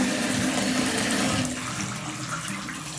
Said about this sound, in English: Let's turn on the shower.